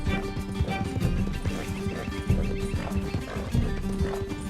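Horse whinnies in Red Dead Redemption 2 over busy game audio, with clip-clop hooves, steady music and scuffling throughout at a loud, close level.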